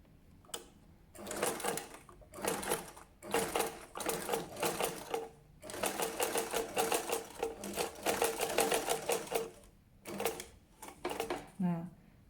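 Sewing machine stitching a men's shirt collar piece with interfacing, running in several bursts of rapid mechanical clatter separated by short pauses, fairly close and steady.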